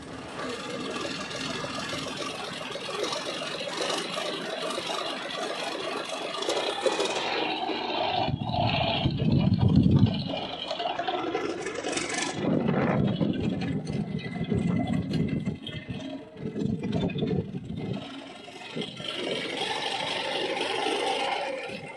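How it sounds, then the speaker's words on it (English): An imported car engine from Poland starts up and runs, a whirring, uneven mechanical idle with surges and dips and some rattling, close and fairly loud throughout. "There's footage of the engine starting up."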